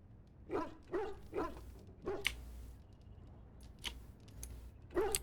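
A dog in Dragon Age Origins gives a series of short, spaced barks and yips, fairly close and clear over a low game background.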